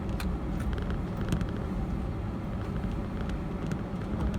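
A car driving up to a rural homestead, with steady low road rumble and engine drone heard from inside the moving vehicle and no talking.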